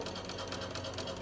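A sewing machine runs in the 1990 horror film Child's Play 2, a fast steady mechanical chatter at low level, heard alone for a moment.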